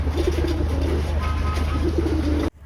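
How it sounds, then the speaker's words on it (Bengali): Several pigeons, about five or six pairs, coo continuously nearby in a soft, low, overlapping murmur, which cuts off abruptly at the end. "আপনারা তো দেখতে পারতেছেন কতগুলো কবুতর আছে প্রায় মনে করেন যে পাঁচ ছয় জোড়া কবুতর আছে এখন"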